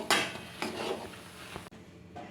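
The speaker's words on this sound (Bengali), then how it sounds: "ভালো করে নেড়ে নেড়ে ভালো করে শুকিয়ে নিতে হবে সুজিটাকে।" Semolina stirred with a utensil in a pan to dry it for a sweet, giving repeated scraping and clinking strokes at a steady pace, close and moderately loud with a faint sizzle, before a brief quieter pause.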